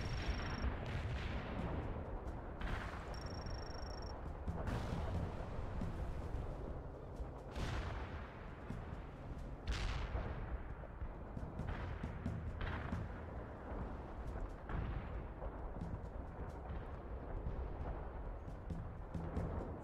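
Missiles and artillery pound continuously in the real-time strategy battle of World in Conflict, a dense rumbling barrage of overlapping booms and blasts with periodic sharper impacts every couple of seconds, no speech.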